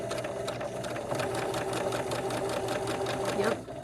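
A Huskystar 224 sewing machine runs a straight stitch, its rapid, even mechanical chatter and motor hum steady and close throughout, with a brief bump near the end.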